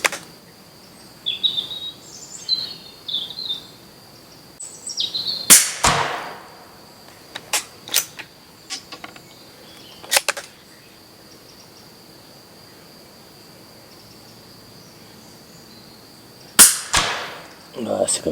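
Subsonic .22 LR rounds from a Rossi 8122 rifle strike a target at 50 metres, giving a few sharp, brief cracks spaced well apart, set against an outdoor background of a steady high insect-like whine and scattered faint knocks.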